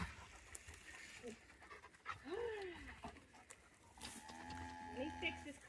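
Dogs pant quickly and rhythmically close by, with a person's voice occasionally talking over them.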